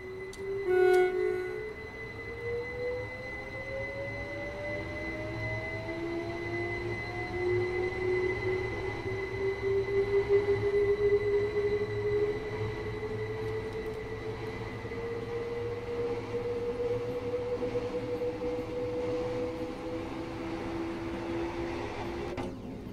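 A Class 377/4 electric train on the East Coastway line in Train Sim World pulls away, its motor whine rising steadily in pitch over a continuous rumble of running gear, with no talk.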